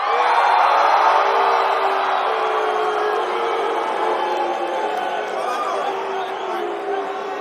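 Alliance fans in a crowd at a Warlords of Draenor livestream event roar and cheer in a sustained, loud wash of voices that slowly fades.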